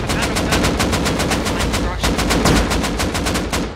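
Sustained rapid automatic gunfire in the video game Rust, loud and close, a dense rhythmic burst of shots with only a brief break partway through.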